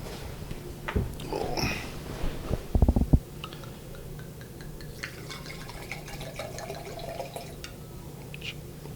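Chianti wine is poured into a glass with a few gurgling glugs and splashes up front, then settles into faint drips and quiet background sounds.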